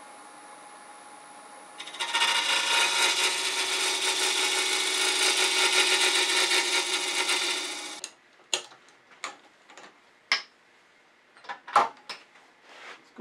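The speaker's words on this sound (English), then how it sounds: "Better luck cutting clean shoulder with a box scraper." A box scraper cuts a wooden shoulder in one long, steady scraping stroke of about six seconds, followed by a series of short, sharp scrapes and taps close to the microphone.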